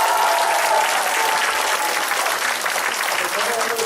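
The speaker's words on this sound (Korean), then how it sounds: "박수 한번 다시 한번" A seminar audience at a Korean education-reform talk event applauds, a dense, even wash of clapping from many hands sustained for several seconds at steady loudness.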